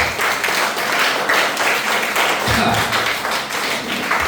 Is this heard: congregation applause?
yes